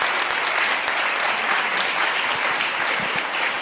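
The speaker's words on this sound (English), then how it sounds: "Let's give a huge round of applause to all of our panelists" Audience applause for the panelists closing a BIPOC climate justice summit, a steady dense wash of clapping from many hands that stays loud throughout with no voices on top.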